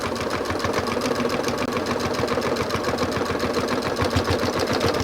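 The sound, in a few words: sewing machine stitching quilt fabric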